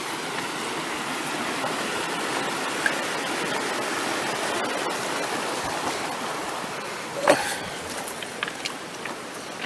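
Creek water rushes steadily along a hiking trail at a crossing, a close, continuous broadband gurgle and hiss with a brief splash near the end and no voices.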